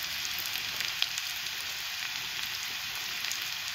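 Coriander and cumin frying in hot oil make a soft, even sizzle at low volume, with one small sharp crackle early on, and no talking.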